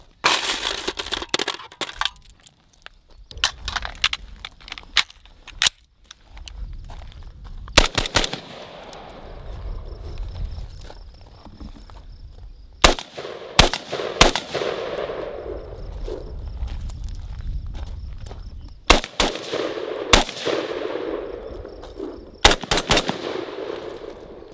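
An AR-15 rifle fitted with a Sharps Xtreme Performance bolt fires through a full magazine outdoors. Sharp, loud shots come singly and in quick strings across the whole stretch, with gaps between groups and no talking.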